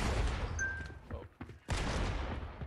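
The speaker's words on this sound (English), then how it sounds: "it's still shooting" Dense gunfire from a sniper shooter video game roars almost continuously, briefly dropping out before resuming loudly, with players' voices mixed in.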